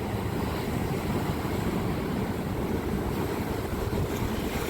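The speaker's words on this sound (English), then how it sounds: "I could feel the waves hitting the piers" Waves wash against beach piers in Tasmania in winter, a steady, loud roar of surf mixed with heavy wind buffeting the microphone, with no voices.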